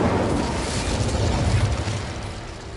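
An Incendio fire spell erupts in Hogwarts Legacy as a dense, roaring whoosh and low rumble that holds for nearly three seconds before easing slightly, loud and close.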